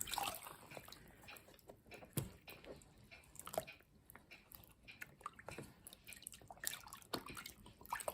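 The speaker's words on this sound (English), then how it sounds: "So I've lifted it up out of the water and I've folded it." Wet fur fabric is lifted out of water and folded, giving soft squishy drips and irregular splattering ticks, close and faint with no voices.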